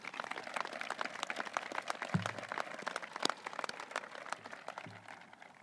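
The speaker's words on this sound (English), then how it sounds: "Round of applause for all those folks." Graduation ceremony audience at a high school applauding, dense steady clapping from a crowd, fairly distant and even, tapering slightly toward the end.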